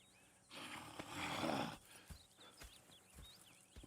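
Horses in the Red Dead Redemption 2 video game, with a burst of snorting and stamping near the start, then scattered hoof clops and light movement against a quiet outdoor backdrop.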